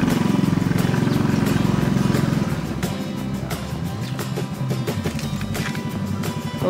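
A small motorcycle engine idles steadily with a low rumble, then the sound changes partway through, settling into a rougher, quieter running before a brief rise at the end.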